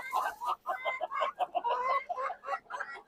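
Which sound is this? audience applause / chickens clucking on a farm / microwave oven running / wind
chickens clucking on a farm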